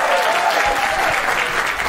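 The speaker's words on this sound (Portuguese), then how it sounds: "Aplausos para o Luciano Guima." Audience applause at a live stand-up comedy show in Brazil, a dense, steady wash of many hands clapping close by, filling the whole stretch without talk.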